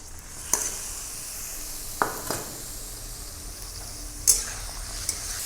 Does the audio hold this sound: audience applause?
no